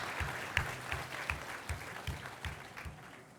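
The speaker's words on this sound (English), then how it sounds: "Give an applause to all our panelists." Applause for a talk-show panel at an ISNA annual convention, a crowd clapping steadily at a moderate distance and slowly fading out, no speech over it.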